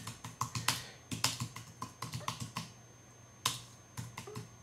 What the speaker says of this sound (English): type in a tweet